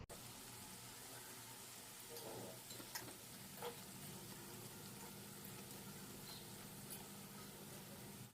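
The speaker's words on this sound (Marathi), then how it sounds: "आता दोन्ही साईडने टिक्की आपल्याला व्यवस्थित तळून घ्यायची आहे." Vegetable cutlet tikkis fry in oil in a kadhai with a faint, steady sizzle, with occasional small crackles and clinks.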